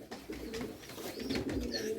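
Soft, low cooing from pigeons murmurs continuously, with a few faint higher chirps and some background rustle.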